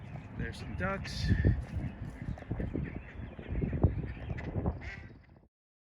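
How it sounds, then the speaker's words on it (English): Ducks quack near an abandoned McCormick factory, a few nasal calls mixed into a loud, busy outdoor scene with someone talking over them. "There's some ducks."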